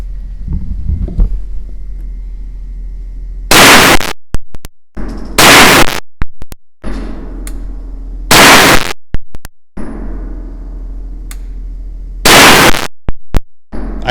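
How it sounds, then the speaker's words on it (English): A Ruger PC9 9mm carbine fired outdoors, four sharp, loud gunshots spaced a couple of seconds apart, each with a short echoing tail, and no talking between them. "Let me take a couple more shots and then I'm gonna give you my next report on the trigger."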